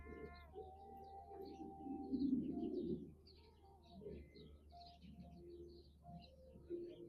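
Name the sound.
birds singing outdoors at ranch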